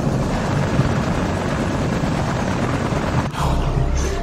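A helicopter in the Far Cry 3 PC game thrums steadily through dense broadband rotor and engine noise, with gunfire mixed in and a sharp break near the end before the roar resumes.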